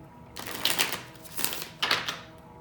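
Three bursts of crisp, rustling tarot card shuffles, close up, separated by short pauses, with no voices.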